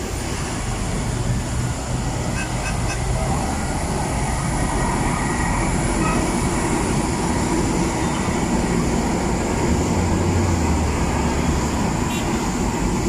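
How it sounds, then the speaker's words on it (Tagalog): An MRT metro train rumbles past Kamuning station on EDSA, Quezon City, heard from a footbridge, steadily for several seconds, a broad continuous roar with faint squeals above it, no voices. "Dadaan na po yung MRT guys."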